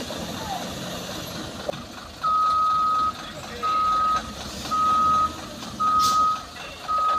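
An orange Fuso truck, stuck and being recovered, reverses with a loud backup alarm beeping in five steady, evenly spaced bursts over engine rumble, while voices shout in the background.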